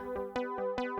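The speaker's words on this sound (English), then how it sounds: "Like a nice kind of plucky sound like this." Four short plucked notes from a Casio CZ-1 phase distortion synthesizer in a bouncy pattern, each with a sharp attack and a quick decay, clear and alone.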